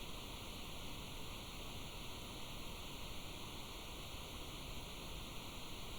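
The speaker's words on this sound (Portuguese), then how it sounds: "A varanda aguenta a chuva." Steady, even hiss of rain falling on a veranda at a mountain inn at night, faint and continuous with no voices.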